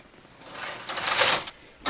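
A domestic knitting machine runs its carriage across a few rows of waste yarn in a contrasting colour, a rising mechanical clatter and whirr that swells mid-pass, stops, then starts again briefly.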